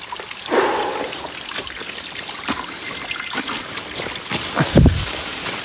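Water trickles and gurgles down a steep mountain stream in forest hills, a steady soft flow with a few louder splashes near the end.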